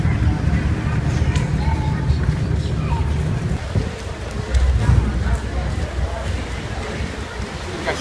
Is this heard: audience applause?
no